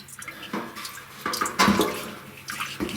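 Fuel splashes and sprays from an EFI fuel line on a 1957 Chevy, irregular wet bursts of liquid surging and spattering up close at a moderate level.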